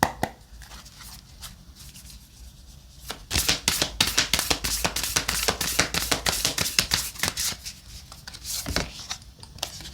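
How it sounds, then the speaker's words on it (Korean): Tarot cards are shuffled and handled in a rapid run of crisp, close riffling and slapping strokes, quieter rustling before and after, with no talking. "결론에 해당되는 카드를 한 장 더 뽑을게요."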